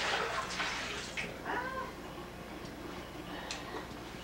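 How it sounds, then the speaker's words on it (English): Escarole leaves are washed in water with soft splashing and swishing close by, loudest at first and fading, mixed with light clicks and drips. "But what we'll do is, we'll wash it out."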